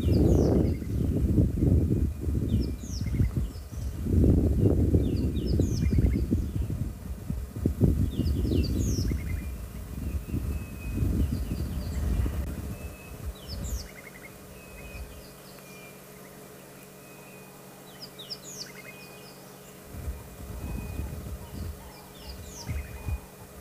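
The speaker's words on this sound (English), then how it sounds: "Quite a lot of bird sounds around in this drainage, other than her." Many birds chirp and call in a bush drainage at sunrise, their short bright calls repeating in the distance over a low, rumbling outdoor background.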